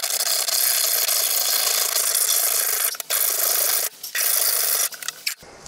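A motorcycle lock clamped in a vise is being cut, giving a harsh, continuous rasping grind with a few brief breaks near the end, close and fairly loud with no talking.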